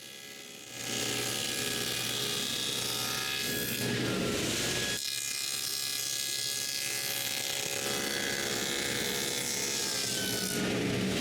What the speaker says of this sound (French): je peux couper une rainure à l'avant des côtés